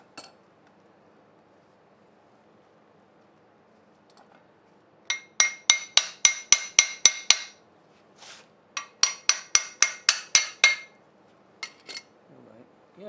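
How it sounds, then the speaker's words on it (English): Light metallic taps on a rusty part of a seized antique Briggs engine, two quick bursts of about eight sharp, ringing clinks each, close and loud against a quiet background, with a few scattered softer knocks. "Sounds like I'm hitting it hard, but I'm not really. I'm just tapping it"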